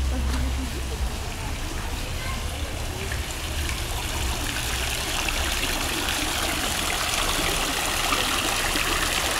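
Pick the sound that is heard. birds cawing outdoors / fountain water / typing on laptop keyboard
fountain water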